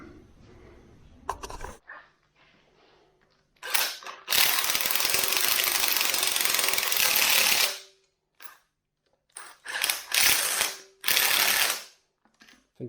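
A power tool spins nuts onto an engine manifold during an engine build, giving loud ratcheting whirs in short bursts, one long sustained run, then several quick spurts separated by silent pauses.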